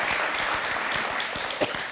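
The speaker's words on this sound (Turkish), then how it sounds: "İşte kocaman bir alkış istediğim cevap" A studio audience on a Turkish word-game show breaks into applause, a full, even roar of clapping from many people, with one sharper clap standing out near the end.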